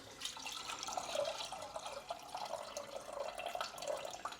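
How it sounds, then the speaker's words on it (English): Plain tap water, about 700 ml, pours into a pot of 200 grams of rinsed chana dal, giving a steady, moderately faint splashing trickle that runs the whole time with no talk over it. "I'm going to add 700 ml of water,"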